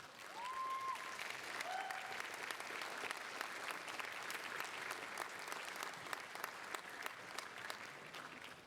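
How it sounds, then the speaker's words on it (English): Warm applause at a university graduation ceremony for the Faculty of Arts, Society and Business, a sustained wash of many hands clapping in a large hall, steady and moderately distant, with a couple of brief tonal chirps early on. "thank them by giving them a warm round of applause"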